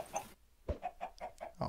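Chickens in the Minecraft video game give a string of short, evenly spaced clucks, about six in quick succession, clear and close with no talking.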